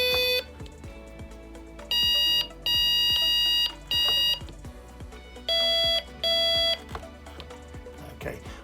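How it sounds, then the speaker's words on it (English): Handset ringtones on a telephone system play in pulsed electronic beeping bursts, a couple of patterns repeating over about eight seconds against quiet background ticking. "at this point you can choose different ringtones"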